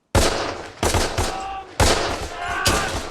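Machine gun fire in a Band of Brothers episode, several loud sustained bursts separated by brief gaps, close and dominant with no talking over it.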